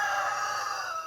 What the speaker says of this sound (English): Sorry about the roosters. They can hear me out here.